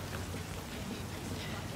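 Rain in the video game Cyberpunk 2077 falls as a dense, even hiss of drops on surfaces, steady and close throughout the brief stretch.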